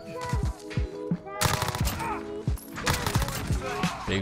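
Dense automatic gunfire and explosive shots from the Modern Warfare video game, loud and continuous with repeated bursts throughout, mixed with game sounds and a speaking player.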